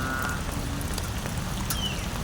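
Rain falls steadily outdoors, making a constant soft hiss of patter with no pauses and a brief faint chirp partway through.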